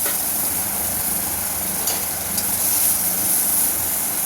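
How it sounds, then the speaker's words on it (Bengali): A loud, even hiss of bitter gourd frying in hot oil with turmeric and salt, steady throughout with a couple of faint clicks. "এবার উচ্ছেটা ভেজে নেব হলুদ আর নুন দিয়ে"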